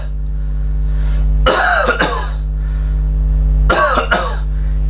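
Someone imitates a cough on expiration, producing two loud, harsh bursts of coughing a couple of seconds apart over a steady low electrical hum.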